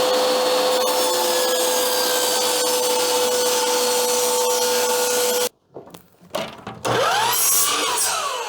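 In a home wood shop, scrap wood is worked into beehive feeder shims with a power tool, which runs as a steady loud whine with a sustained hum, then cuts out and gives way to brief knocks and scraping.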